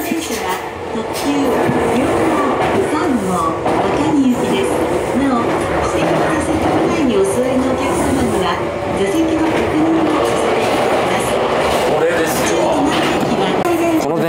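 Steady rumble of a Tobu Railway limited express, a converted roughly 50-year-old former Deluxe Romancecar, with rhythmic clatter and floor noise throughout, loud and close from inside the carriage.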